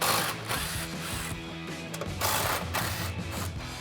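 A hand ratchet clicks rapidly and steadily up close as it backs out 15 mm strut bolts on a 2015-2025 Ford Mustang during a coil-over install, in short bursts with brief pauses.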